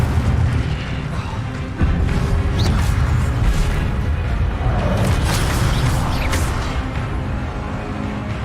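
A fire spell cast in a Harry Potter video game bursts in a loud, continuous roar of crackling blasts and booming impacts, with repeated sharp pops layered over a dense rumbling base.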